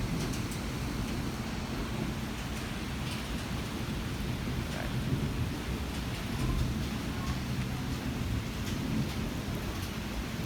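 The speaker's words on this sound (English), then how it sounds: "count how many thunderstorms I have caught on camera" Heavy thunderstorm with dense, steady rain pouring down and low thunder rumbling throughout, loud and continuous with no voices.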